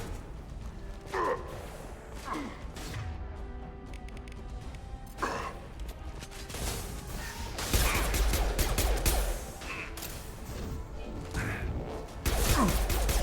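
Sci-fi weapon fire from a Mass Effect 2 battle on Omega, with several loud bursts and impacts spread across a busy combat mix, heaviest toward the end, and faint voices under it.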